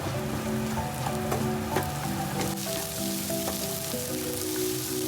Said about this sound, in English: Stir-fry well.